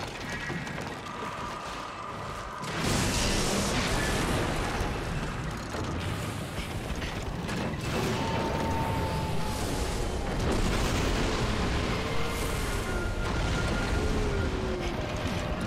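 Heavy booming cannon blasts from the Celestial Cannon build in the hunting game Wild Hearts, a dense rumbling roar with explosive bursts and whistling tones throughout, loud and continuous.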